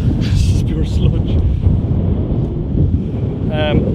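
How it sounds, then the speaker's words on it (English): Strong wind gusts across an open, muddy field and buffets the microphone with a steady, loud, low roar. Brief, faint bits of higher sound come through during the gusts. "It's really windy right now."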